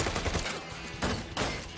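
Gunfire in a Cowboy Bebop anime episode: dense bursts of shots over a busy soundtrack, loud and continuous, with heavier blasts near the middle.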